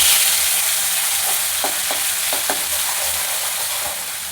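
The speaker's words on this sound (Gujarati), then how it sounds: "હવે પછી ટમેટાં અને ડુંગળીની ગ્રેવી ઉમેરી દઈશું." Tomato and onion gravy hitting hot oil seasoned with cumin and asafoetida sizzles steadily throughout, with a few soft stirring scrapes in the middle and the hiss easing slightly toward the end.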